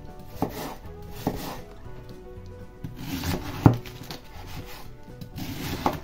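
A knife slices red cabbage into strips on a board, a soft steady series of rubbing cuts with a few sharper taps, quiet and close with no talk.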